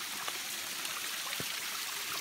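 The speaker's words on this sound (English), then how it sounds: "here's, well, the lower waterfall" A small lower waterfall with low flow in a Tasmanian gully after hot weather gives a steady, soft rushing wash of falling water, continuous and fairly quiet, with no voices.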